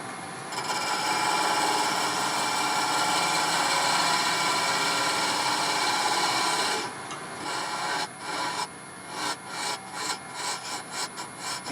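A deep spindle gouge cuts into a walnut box spinning on a wood lathe, giving a loud continuous rough scraping hiss that breaks into shorter intermittent cuts near the end.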